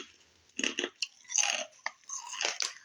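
Organic banana chips crunched and chewed close up in several separate bites, each a short crisp burst with quiet gaps between.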